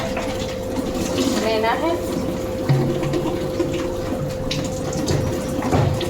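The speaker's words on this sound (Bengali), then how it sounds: "এখন হচ্ছে বোতলে জল" Tap water runs steadily into bottles being filled for drinking at home, a constant close rushing stream while people talk over it.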